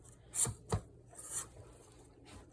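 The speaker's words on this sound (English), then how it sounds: "what I usually do with chiffon cakes is I use the dull side of the knife and I scrape around here" The dull side of a knife scraping around the edges of a sugar-free, gluten-free chiffon cake, a few close, soft rasping strokes with quiet pauses between and no talking.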